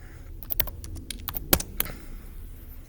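Rapid clicking of computer keyboard keys in a short burst of irregular keystrokes, with one sharper, louder key press near the middle, heard alone without any voices.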